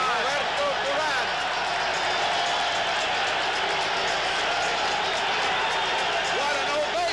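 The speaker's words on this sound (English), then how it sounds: "What an ovation. Listen to this crowd." A huge boxing arena crowd roars in a sustained ovation as fighters enter the ring for Roberto Duran versus Sugar Ray Leonard, dense cheering and clapping filling the space steadily without letup.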